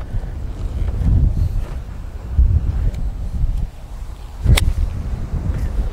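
Wind buffeting a microphone outdoors on a golf course, a loud, low rumbling roar that surges in gusts, with a brief sharp knock near the end and no voices.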